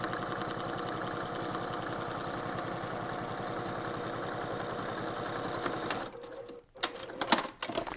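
A sewing machine stitches through polyester fabric with a steady, rapid mechanical chatter for about six seconds, then stops, leaving a few scattered clicks and handling noises.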